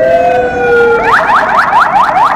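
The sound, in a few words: ambulance siren passing by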